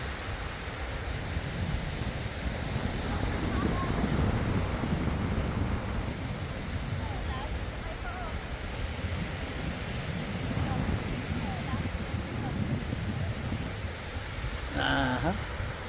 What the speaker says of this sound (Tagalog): Malalaki pa alon.